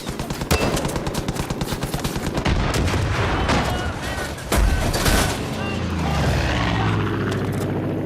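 Loud, sustained strafing gunfire in the video game Far Cry 5, rapid machine-gun bursts rattling continuously with heavy booms and explosions layered in, close and dense throughout, with a voice briefly heard over the battle.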